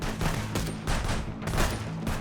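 Rapid video game gunfire crackles in repeated bursts, a tight cluster of shots every half second or so, close and loud with a low hum underneath.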